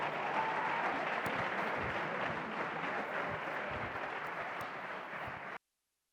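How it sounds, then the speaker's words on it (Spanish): A TEDx audience gives a loud round of applause for a speaker, the steady dense clapping filling the room for about five seconds before it cuts off abruptly. "un fuerte aplauso, por favor, para Sana Coucha"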